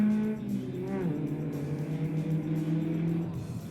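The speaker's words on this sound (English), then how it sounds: "the blue TVR of Andrew Wilson leads Rob Van Aal and Nick van Wyk through turn 1" A blue TVR leads other race cars through a track corner, with loud engines droning and revving close by as several cars pass at once.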